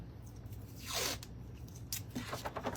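Tape is pulled and torn off a roll to secure embroidery backing in the hoop, with a quick rasping strip, then a short sharp rip and a few crinkling rustles close by.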